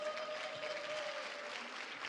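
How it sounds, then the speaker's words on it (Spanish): An audience at a panel on egalitarian communication and inclusive language applauding, a steady wash of clapping from a seated crowd lasting a couple of seconds, with no talk. "Un fuerte aplauso, por favor, para esta supermesa"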